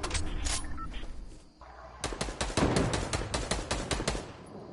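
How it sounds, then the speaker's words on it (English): Rapid bursts of gunfire in the video game Fortnite, a dense run of sharp shots after a brief lull, loud and close over game background sound. "Caleb, try to headshot the kid"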